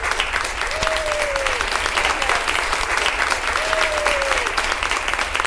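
Canned applause effect triggered by the /clap command in a Discord chat, a steady dense crowd clapping throughout, with two rising-falling tonal whistles or squeaks over it.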